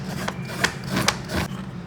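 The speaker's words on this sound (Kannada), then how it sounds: "ಸೊ ಇವಾಗ ಚಟ್ನಿ ಮಾಡೋಕ್ಕೆ ಕಾಯಿ ತುರ್ಕೊಳ್ತಿದ್ದಾರೆ." Fresh coconut being scraped on a grater for chutney in a home kitchen, a series of rough rasping strokes at a steady rhythm, heard close with no talking.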